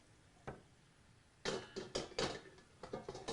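Drained ground hamburger meat is dumped from a pan into a crock pot while making spaghetti sauce: a single soft knock, then a run of close, clattering thuds and scrapes of utensil against cookware.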